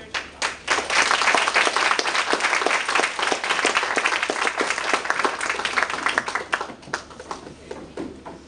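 Audience applause welcoming a lecture speaker to the stage, steady dense clapping from a room full of people lasting several seconds before thinning out toward the end.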